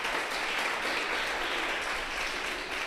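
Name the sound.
audience clapping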